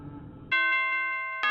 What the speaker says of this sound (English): That's 6 AM bell.